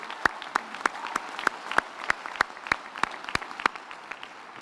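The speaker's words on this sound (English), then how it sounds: "another round of applause" Sparse applause at a graduation ceremony, a small number of hands clapping at a steady, even pace, quiet and close, with no voices.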